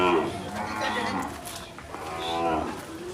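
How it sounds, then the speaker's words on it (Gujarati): Cows at a gaushala cow shelter moo in long drawn-out calls, two main lowing calls close by over a constant murmur of background noise, with voices faintly audible. "આપણી આ ગૌશાળાની ગાયો જાય છે અત્યારે નીણ ઉપર"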